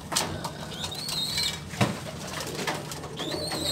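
Ringneck doves coo in a breeding aviary: soft, repeated low calls run across the clip, with a brief flutter of wings and some higher chirps from other birds nearby.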